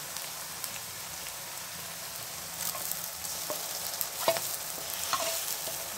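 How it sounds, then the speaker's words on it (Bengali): Dissolved spice mix tipped into browned onions frying with goat tripe, a steady dense sizzle with occasional spoon scrapes as it is stirred. "এখন আমি ওই যে মশলাগুলো গুলে রেখেছিলাম সেগুলো এর মধ্যে আমি দিয়ে দিব।"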